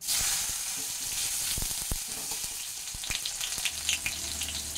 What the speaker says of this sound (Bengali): এর মধ্যে দিয়ে দিচ্ছি হাফ টমেটো কুচি।